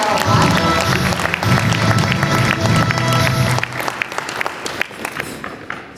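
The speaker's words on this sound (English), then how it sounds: "Please give a big round of applause." An audience at a closing ceremony bursts into loud applause and scattered cheers, a thick crowd roar that thins after a few seconds into sparser individual claps.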